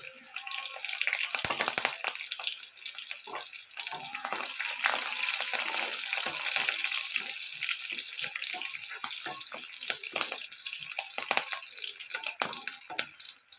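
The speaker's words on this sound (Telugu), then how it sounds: "ఇది ఇలా ఫ్రై అవుతున్నాయి కదండి" Ivy gourd (dondakaya) with crushed garlic and green chillies frying in oil in a pan, giving a dense, close, continuous crackling sizzle with irregular spitting pops throughout.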